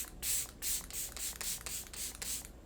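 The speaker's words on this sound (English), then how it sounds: "we're gonna go in on this side with the Milk makeup setting spray one more time to really lock it in" Milk Makeup setting spray sprayed in a rapid series of about seven short, close, hissing mists at an even rhythm, with no voices.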